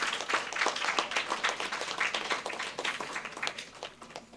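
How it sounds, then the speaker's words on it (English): An audience at a primary schools spelling bee in St. Lucia applauds the contestants, a steady wash of many hands clapping together for several seconds with no voices over it. "Let us give them a round of applause again."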